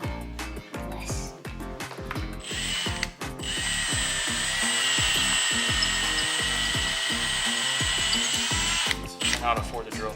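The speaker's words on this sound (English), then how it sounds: "I cannot afford to drill through that." A power drill bores into a steel part of a Murray wide-body mud mower during a workshop build, a steady close whine lasting several seconds between short start-and-stop bursts, with rattling clicks around it.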